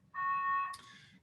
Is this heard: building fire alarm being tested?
yes